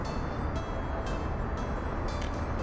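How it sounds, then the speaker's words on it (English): Steel freight train in Workers & Resources: Soviet Republic, a steady low rumble of rolling rail wagons with periodic hissing bursts, continuous and fairly loud with no talk over it. "Where's that steel train? There it is."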